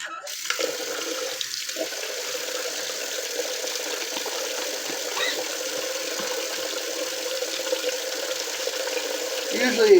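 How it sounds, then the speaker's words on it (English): Tap water runs steadily and close by as more water is added to shaving soap during lathering, a continuous hissing splash that swells slightly at the end. "Add a little bit more water."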